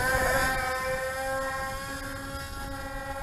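Motors of an XK X420 VTOL RC airplane held at full throttle, a steady high-pitched electric whine with strong sustained tones, close and continuous without pause.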